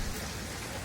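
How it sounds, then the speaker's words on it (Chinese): Rain starts falling in a Japanese hot-spring town, a soft, even patter of drops that fills the short moment without any voices. "也开始下雨了。"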